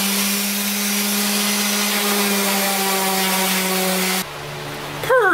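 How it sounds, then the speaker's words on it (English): An electric sander fitted with 80 grit sandpaper works soft cedar wood, a loud steady whirring drone with a constant hum that cuts off near the end, followed by a brief shifting mechanical whine. "Just have an 80 grit in the sander."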